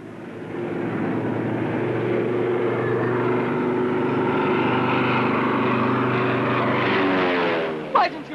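A propeller airplane takes off, its engine drone steady and loud throughout before dropping away at the end, with a brief sharp sound near the close.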